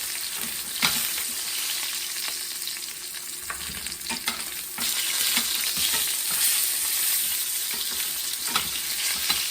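Beef short ribs brown in very hot grease in a pan, giving a continuous close crackling sizzle with scattered pops and a brief shift in intensity midway, no voices.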